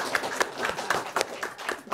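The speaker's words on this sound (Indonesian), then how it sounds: "tepuk tangan semua dong" An audience at a book launch in a café claps. The individual hand claps come in quick, fairly close bursts of applause, and there is faint murmuring underneath.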